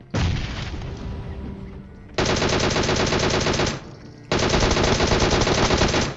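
A DP machine gun fires in PUBG gameplay, sustained loud automatic bursts with a brief lull between them and no talk over the shooting.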